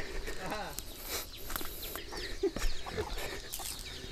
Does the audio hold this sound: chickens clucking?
yes